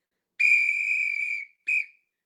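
Two sharp whistle blasts ring out close and loud, a long steady one of about a second followed by a short clipped toot, with silence around them.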